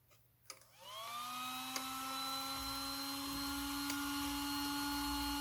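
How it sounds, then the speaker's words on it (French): A single electric car cooling fan spins up after a click and settles into a loud, steady whirring drone with a tonal hum, running alone without talk. "donc voilà le bruit que ça fait, un seul ventilo"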